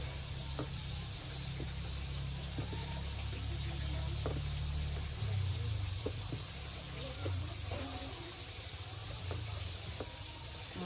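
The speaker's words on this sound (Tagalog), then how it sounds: "Marami kami itong sweet and sour na niluluto ko kasi of course marami kami sa bahay." Sweet and sour meat sizzling in a pan while it is stirred, making a constant fry hiss with scattered clicks and scrapes from the stirring, and voices talking faintly at times.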